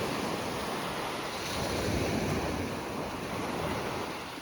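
Strong ocean waves surging and breaking in a steady roar at Playa Nanín in Sanxenxo, Pontevedra, with wind rushing across the microphone throughout.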